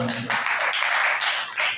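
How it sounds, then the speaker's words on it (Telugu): Loud clapping from a church congregation during a Telugu sermon, a short burst of dense, continuous applause that fades near the end. "గట్టిగా చప్పట్లు"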